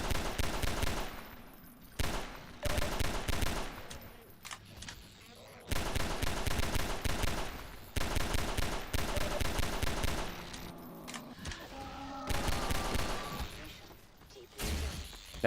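Pistol fire in the video game Half-Life 2, a rapid series of loud, sharp shots in quick bursts with brief pauses between volleys, mixed with game effects.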